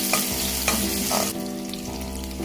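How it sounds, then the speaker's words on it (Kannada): Green chili and curry leaves fry steadily in a hot pan for a mushroom biryani, a dense continuous sizzle with a few stirring scrapes, close and fairly loud, no voices. "ಈಗ ಎಲ್ಲ ಥಿಂಗ್ಸನ್ನು ಚೆನ್ನಾಗಿ ಫ್ರೈ ಮಾಡ್ಕೊಳ್ಬೇಕು"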